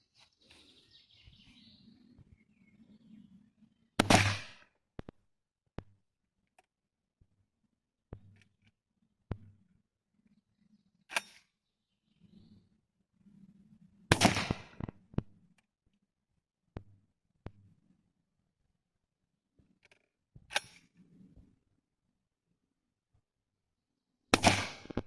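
Sarsilmaz SA W 700 shotgun fired with a cylinder choke, four sharp loud blasts spaced several seconds apart outdoors, with quieter clicks and handling sounds and faint bird calls between shots.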